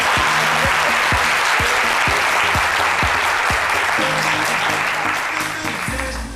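A TV studio audience applauds as a guest joins the set of a French-language daytime show. Loud, sustained clapping runs throughout over a steady thumping music beat and fades slightly at the close.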